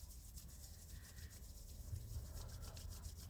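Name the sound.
hands rubbing against each other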